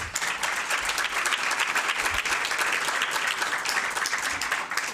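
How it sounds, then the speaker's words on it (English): Sustained audience applause at an award presentation forms a full, steady roar of many hands clapping at once and holds at a constant level from start to finish. "Let's give John another round of applause."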